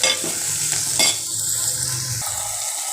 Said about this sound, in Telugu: ఉల్లిపాయలు కొంచెం కలర్ చేంజ్ అయ్యే వరకు ఫ్రై చేస్తున్నా